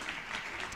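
Audience applause at a film festival closing gala, a brief steady wash of many hands clapping in a large hall.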